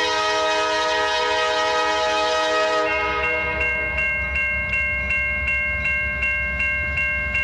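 A northbound freight train passes on single track at Deshler, Ohio, a loud steady wheel-and-rail roar that gives way to rhythmic clickety-clack of wagons over rail joints, with a tonal horn-like ring early on.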